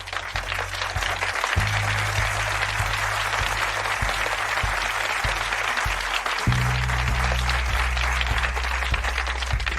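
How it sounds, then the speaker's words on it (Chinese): A group applauds in a rural clinic gathering, with dense continuous clapping that swells near the end, moderately close and without voices over it. "鼓掌！"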